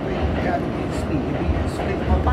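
A train arriving during a train ride: a continuous low rumble of rail noise and rolling wagons, fairly loud and close, with a few brief higher squeals as it moves.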